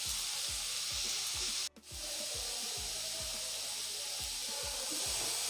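Onion frying on a low flame is stirred for Malvani masala, with a steady sizzle under a regular rhythmic scraping of the spoon against the pan and one brief dip in the sound.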